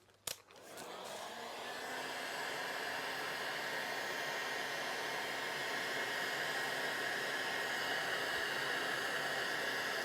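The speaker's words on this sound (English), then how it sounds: "Then I'm going to get the heat gun and blow it." A heat gun blows hot air over a cake finished with rustique and skinny cream, starting with a click and a short jolt, then a steady loud rushing whoosh that runs on unbroken.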